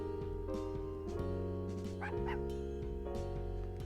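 Short dog barks and yips sound in a pet shop in the video game Unsighted, brief and clustered over steady background game music.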